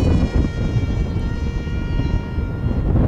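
Strix Goblin 6s RC plane flying in gusty wind, a steady high electric motor whine with layered tonal harmonics over heavy wind rumble, loud and close, no talking.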